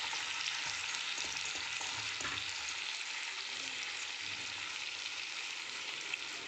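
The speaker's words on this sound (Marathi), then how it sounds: "याला छान मिक्स करून घेऊया." Vegetables with crushed peanuts fry and get stirred in a pan for a taandulkundra dish, giving a loud, even, continuous sizzle with faint stirring scrapes throughout and no voices.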